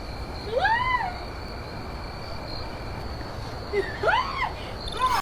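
A cat, caught in the middle of nowhere near a road tunnel built for trucks, lets out two loud, wavering meow-like yowls, one early and one later, over steady insect-like background hiss.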